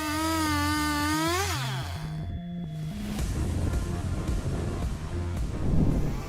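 An MS661 chainsaw saws through large poplar logs. A whining engine tone swings up and down in pitch, then gives way to a rough, loud, continuous cutting roar.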